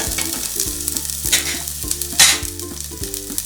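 Onion and ginger garlic paste sauté in a pan for ghee rice, a close, lively sizzle broken by spatula stirs, with a steady rhythmic tonal hum running underneath.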